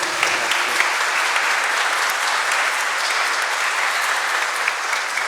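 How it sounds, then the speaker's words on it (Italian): Applause from a church congregation at a patronal feast Mass for Saints Peter and Paul, a dense, steady round of clapping that fills the space evenly and carries on without a break. "ti facciamo un applauso, ecco, per il tuo ministero"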